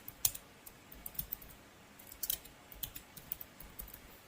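Light, close keystrokes tap on a computer keyboard in short irregular clusters, quiet and unaccompanied by speech.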